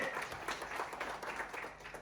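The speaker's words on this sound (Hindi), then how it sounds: "राजस्थान से एक बार जोरदार तालियां उनके लिए।" An audience at a celebration event in Ahmedabad claps together in a brief, dense burst of applause that stays fairly even and then tapers slightly at the end.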